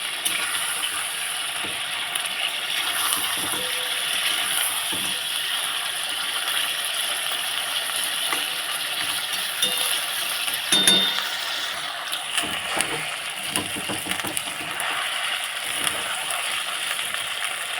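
Fried chicken being stirred and turned in a metal cooking pot for a shop-style chicken biryani, with steady scraping and clinking of a spoon against the pot over a constant background hiss, no talking.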